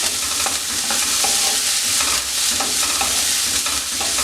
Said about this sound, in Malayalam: ഇതിലേക്ക് ഉപ്പ് ചേർത്ത് കൊടുക്കാം സോള നല്ലതുപോലെ ഒന്ന് വഴറ്റിയെടുക്കാം